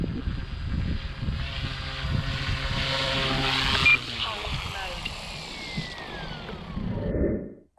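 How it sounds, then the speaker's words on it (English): Goosky S2 Legend RC helicopter flying overhead on a field, rotor whine and buzzing rising and shifting in pitch as it maneuvers and comes closer, with people talking over it. "Awesome, awesome, awesome little heli. Let's bring it on closer."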